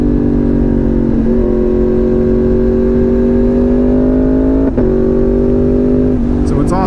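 A motorcycle engine blips its throttle during manual downshifts without an auto-blipper, a loud steady drone under constant wind rush with sharp rev jumps at regular intervals, each followed by a settled lower pitch.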